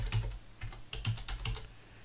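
Typing on a computer keyboard in a ZX Spectrum Next BASIC development setup: a quick run of crisp, close key clicks in an uneven rhythm, with no voices.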